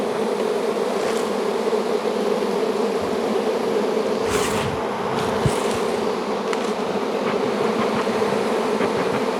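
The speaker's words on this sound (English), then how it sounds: "There's just so many bees." Dense, continuous buzzing of a large honeybee colony that is trying to swarm, close and steady, with a few louder individual bees passing by.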